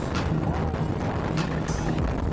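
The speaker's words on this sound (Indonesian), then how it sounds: "perjalanan menuju kota Pontianak dengan menggunakan speedboat Raja Wali Express" Raja Wali Express passenger speedboat bound for Pontianak, heard as a steady, fairly loud broadband rush of engine and water noise with low droning hum throughout.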